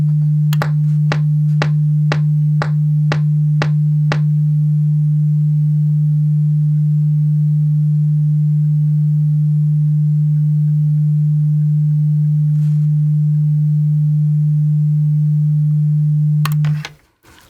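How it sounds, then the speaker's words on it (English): A steady, loud low sine tone from a digital oscillator holds unbroken for about sixteen seconds, with a few sharp clicks at the start and near the end. "This is a very simple sine wave from a digital oscillator, so it should be fairly precise."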